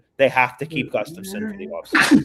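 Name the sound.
sneeze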